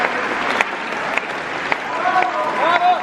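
An audience at the Bolshoi ballet keeps applauding through an encore, sustained clapping heard from within the hall while people chatter nearby and a few sharper claps stand out.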